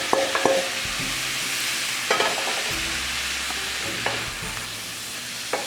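Beef stroganoff mixture with onions frying in a pan, steady sizzle under repeated scraping stirs of a utensil against the pan, close and alone.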